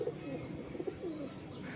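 Pigeons coo softly in a Dhaka loft where several birds are nesting on eggs, a few low rounded coos rising over a steady murmur of background noise.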